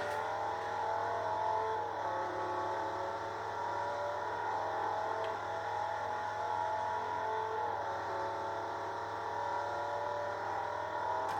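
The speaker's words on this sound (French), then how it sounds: "C'est un beau bruit quand même la Viper." A Dodge Viper engine in Forza Motorsport 4 drones steadily throughout, low and constant with a faint whine, like a car cruising at speed with no talking.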